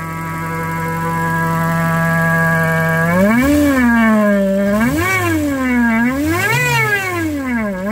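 A 1993 Honda del Sol with a B18C1 engine and AMR500 supercharger runs loud and close, holding a steady idle before climbing into several rising and falling revs with a whining, harmonic tone.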